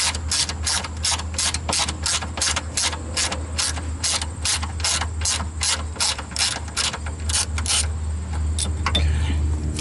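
A ratchet undoes a brake line fitting on the rear brakes of an SRT4, ticking in a fast steady run of clicks that stops near the end, loud and close with no talk.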